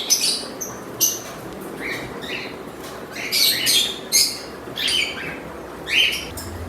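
Pet birds in an aviary chirp in short, bright bursts of several overlapping calls at irregular intervals over a faint background hum, close and lively, with no talking.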